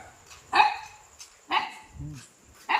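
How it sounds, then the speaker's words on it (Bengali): Street dogs bark three times in short, sharp bursts spaced about a second apart, fairly close, with quiet background between barks. "সব কুকুরগুলো দেখো কিরকম ছুটে ছুটে যাচ্ছে"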